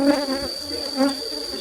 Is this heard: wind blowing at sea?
no